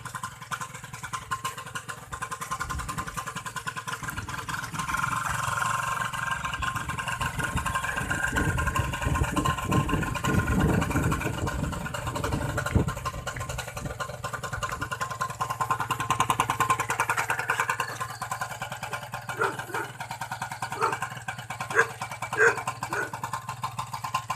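A Lifan LS125 motorcycle engine running close by on a rural village road, idling and then revving up and easing off in a continuous mid-pitched drone, with faint voices underneath.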